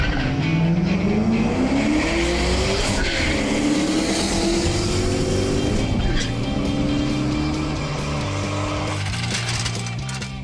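A turbocharged Police Interceptor with a five-speed roars hard at launch, its engine note climbing through the gears under loud tire squeal and scrabbling over about ten seconds of sustained, close acceleration.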